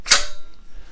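A homemade bicycle headset cup remover tool is yanked sharply, giving one short, sharp knock as the headset cup is driven out, with a brief ringing tail and nothing after.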